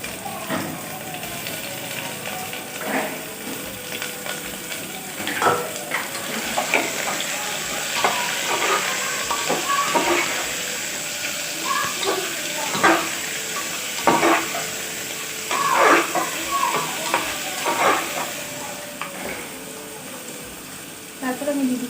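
Potatoes and green chillies fry in a pan with a steady sizzle, broken by repeated scraping stir strokes from a spatula, close and moderately loud.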